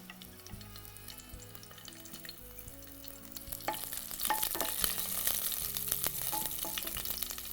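Green chillies, bay leaf, cinnamon, cloves and cardamom fry in hot oil, a soft hiss over a faint tonal background that swells into a fuller, denser sizzle about halfway through.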